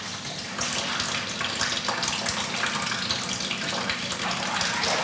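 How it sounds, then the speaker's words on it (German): Whey draining steadily off a batch of thickened algae cheese, a continuous close, even rush and trickle of liquid like a running tap, holding at one level for several seconds with no voices. "Jetzt muss nur noch die Molke abtropfen und der Käse trocknen."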